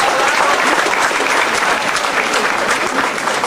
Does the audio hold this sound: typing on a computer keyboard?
no